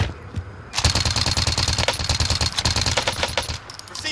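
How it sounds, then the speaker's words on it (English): Hostile automatic gunfire in a first-person shooter video game, a loud, rapid stream of shots bursting in after a brief quieter moment and continuing steadily, with faint radio chatter mixed in. "Receiving hostile fire."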